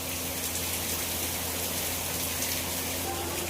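Steady rain falls continuously as an even, moderate hiss with no pauses, heard from indoors during a downpour heavy enough to flood the surroundings.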